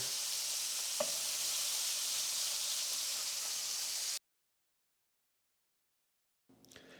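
Scallops sear in plenty of butter in a pan, giving a steady, close sizzle with a brief tap near the start, then cutting to silence before the frying sound returns faintly at the end.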